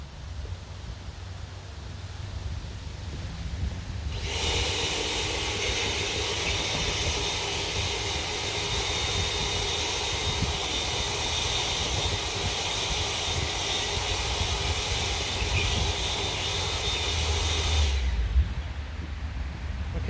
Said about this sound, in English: I have my big blower out here with me for leaves and whatnot.